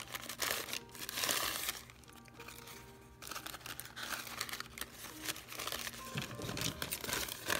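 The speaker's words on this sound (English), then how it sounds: "Here's the coffee filter. I cut it in half." A paper coffee filter is handled and cut, giving soft, quiet crinkles and rustles that come in bursts with brief pauses, close to the microphone and without speech.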